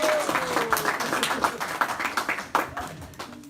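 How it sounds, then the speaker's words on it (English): Round of applause from an audience at a village coronation address, scattered sharp claps forming a moderate, uneven patter that thins into individual hand claps toward the end. "That does deserve a round of applause."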